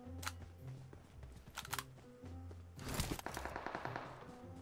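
Gunfire in the PUBG video game: several sharp shots and a short rapid burst, fairly distant and quiet against a low background hum, with no talking.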